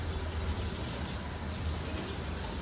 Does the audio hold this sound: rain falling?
yes